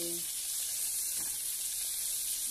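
Prawns fry in a pan for prawn malai curry, producing a steady, fairly close hiss of sizzling oil that continues evenly without pause.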